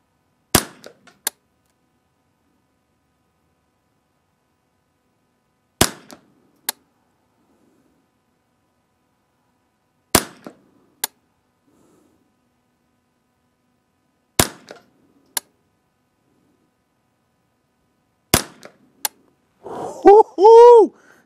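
Five semi-automatic .22 rifle shots, a Ruger 10/22-type build with an old barrel, fired at a target range as sharp isolated cracks spaced several seconds apart, each with a quick short echo, followed by brief excited speech.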